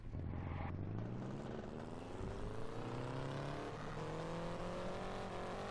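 A race car engine in the Indianapolis 500 Evolution video game, on the 1961 Trenton 150 career race, revs and climbs steadily through the gears as the car heads out to qualify, loud and continuous.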